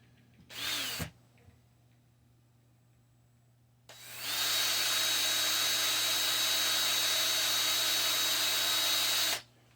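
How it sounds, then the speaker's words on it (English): A cordless screw gun backs screws out of a wooden pinball machine crate, one brief whir followed after a pause by a long steady whine lasting several seconds, close and loud with no talking. "Use my trusty screw gun."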